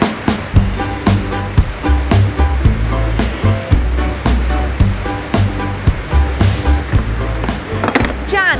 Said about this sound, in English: Alan winds string around the handle using this spinning machine.